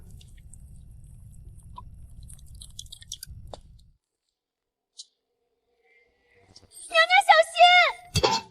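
Crunchy slices of twice-fried meat are chewed in a steady, close crunching for several seconds, then it goes quiet and a voice speaks near the end.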